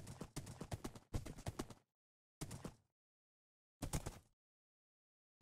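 Minecraft horse hooves clip-clopping in quick bursts of rapid, close and clear hoofbeats separated by silent gaps, with no talking over them.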